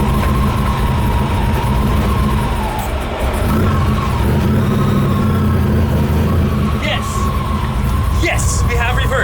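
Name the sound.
1955 Chevy car engine starting and running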